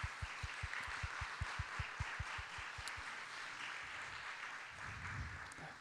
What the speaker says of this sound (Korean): 귀한 발걸음 해주신 분들 저희 박수로 환영하도록 하겠습니다